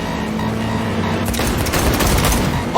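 Rapid automatic gunfire during a Cyberpunk 2077 car chase cuts in over a steady, loud engine drone about halfway through, dense and close.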